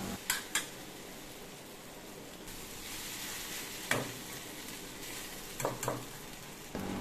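Sago frying over low heat in a pan, a soft continuous sizzle under quiet stirring, with several light spoon taps and scrapes against the pan.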